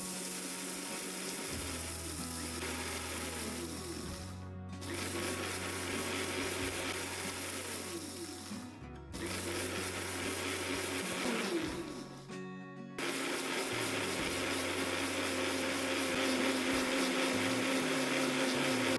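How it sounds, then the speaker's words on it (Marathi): A mixer grinder pulses as it grinds green moong into flour, running in steady bursts of whirring motor noise with three short stops between them, close by and fairly quiet. "याला झाकण लावून आपण हे चांगले पल्स मोडवर बारीक करून घ्यायचे आहे"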